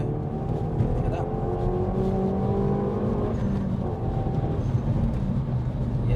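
Volkswagen Golf R engine pulling hard in third gear from inside the cabin, a steady rising drone with road noise underneath while someone talks over it.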